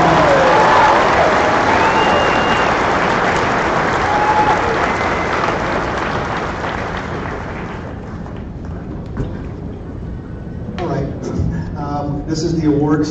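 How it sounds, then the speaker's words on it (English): A large audience at a high school graduation applauds loudly and steadily, with scattered cheers, before the clapping thins out and a voice begins speaking over the fading applause. "Let's give them another deserving round of applause for their impressive achievement."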